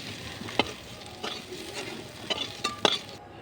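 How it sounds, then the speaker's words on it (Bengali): Young jackfruit frying in plenty of oil in a wok, a steady crackling sizzle broken by several sharp stirring scrapes and clinks of a spatula against the pan, close and fairly loud. "শুধু তেলটা বেশি করে দিতে হবে, তাহলে প্রত্যেকটা ইঁচড়ের গায়ে গায়ে তেলটা লাগবে, তাহলে ছাকা তেলে ভাজা হবে।"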